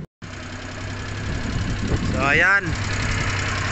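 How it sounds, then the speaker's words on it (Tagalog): A Suzuki DA62V van's K6A engine idles steadily after a throttle body repair, a constant low mid-pitched hum running throughout at close range while someone talks briefly over it. "ngayon ay relax na ang andar ng makina at nawala na din ang up and down idling"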